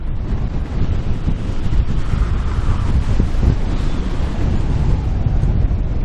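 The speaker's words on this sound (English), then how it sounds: "Yeah, that's pretty stiff breeze blowing." A stiff breeze buffets the microphone on a boat in Johnstone Strait on the British Columbia coast, a loud continuous rumbling roar of wind with waves washing underneath and no voices.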